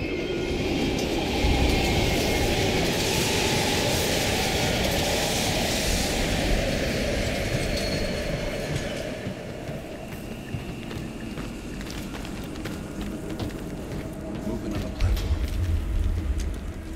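A train passes in the Call of Duty: Black Ops Cold War video game with a loud, continuous rumble and rattling wheels that ease slightly toward the end.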